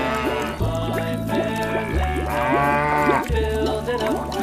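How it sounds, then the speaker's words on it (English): An animated cow moos in a children's animal cartoon, the low lowing call blending into a continuous bouncy nursery-song backing track that plays loudly beneath it. "Cow."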